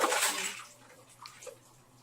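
Tap water runs while dishes are washed, a broad splashing wash that is loudest at the start and then thins to softer trickles and a few small clinks.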